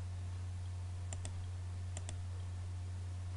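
Computer mouse clicking in AutoCAD 2007, heard as two faint, quick double clicks about a second apart over a steady low electrical hum.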